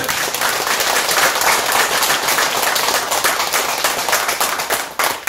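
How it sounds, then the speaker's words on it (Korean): Audience applause at a Buddhist memorial ceremony and dharma assembly at a temple: dense, sustained clapping from many hands that stays loud for about five seconds before thinning slightly at the end, with no voices over it. "박수 한번 크게 한번 쳐요"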